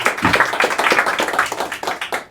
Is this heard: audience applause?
yes